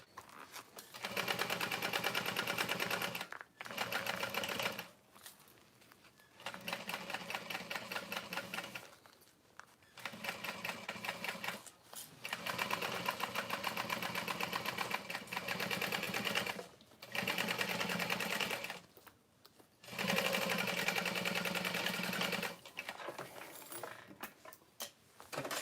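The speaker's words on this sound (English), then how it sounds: "Back stitching over the bottom panel." A sewing machine back stitches across the bottom panel of a tote bag, running in steady bursts of several seconds each, separated by short pauses, loud and close with no voices.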